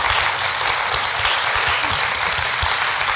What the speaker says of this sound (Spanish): le damos un aplauso con mucho amor a Mila Charaviglio.